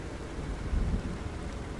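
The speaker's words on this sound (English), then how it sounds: "there's the thunder" Steady rain with a low rumble of thunder rolling through in a DayZ game storm, the thunder swelling briefly mid-way over the constant hiss of rainfall.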